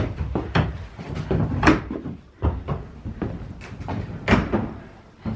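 Demolition of an old door and built-in wall in an attic room, heard as a string of loud wooden knocks, thuds and banging impacts at irregular intervals, close by with no talking.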